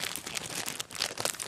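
Scissors cutting open an instant noodle packet, with crisp crinkling and crunching of the plastic wrapper close by, in short irregular bursts with no talking.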